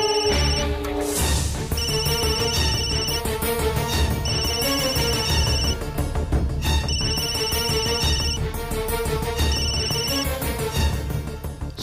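A mobile phone ringtone plays a looping electronic melody, repeating its phrase several times at steady volume over a music bed in a Tamil TV drama scene.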